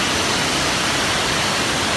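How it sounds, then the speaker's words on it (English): Rushing water of a waterfall beside the Franconia Ridge Trail in New Hampshire, a steady, dense broadband roar filling the whole two seconds with no pauses or other sounds. "two waterfalls."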